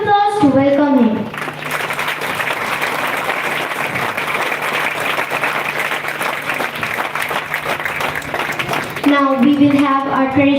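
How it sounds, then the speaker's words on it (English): Crowd applause at an Independence Day celebration, a loud dense wash of clapping lasting about eight seconds, framed by a person talking before and after. "A big round of applause to welcome him."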